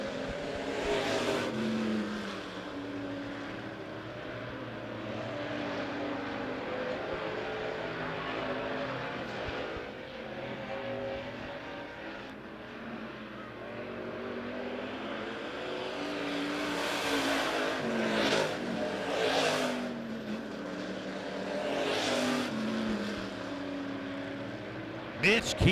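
Race cars circle Monett Motor Speedway in an A feature, engines droning and swelling as the pack passes in a steady, continuous roar, with a voice talking over the noise.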